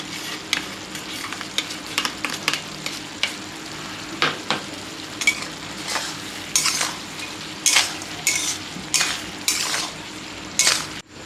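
Fried loitta dried fish stirred into a sizzling pan, with a steady frying hiss under repeated sharp scrapes and clinks of a metal utensil against the pan, close and fairly loud, with no talking.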